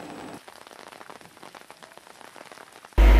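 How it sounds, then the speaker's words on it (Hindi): Light rain falls in the forests of Dalhousie in Chamba district, with soft, scattered drops pattering steadily, ending in a sudden loud rush of noise. "पूरे जिला में हल्की बारिश हुई और तेज हवाएं चली।"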